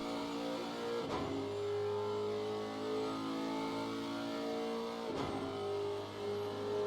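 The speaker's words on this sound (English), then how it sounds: "Looking at the back of the Melling car, we can see the Ferrari coming." A Ferrari GT3 race car at Monza during a GT3 race holds a loud, continuous engine drone, with two sharp gear-shift breaks about four seconds apart.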